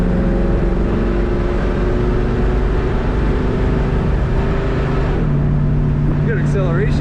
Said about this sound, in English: This car has a nice exhaust note to it.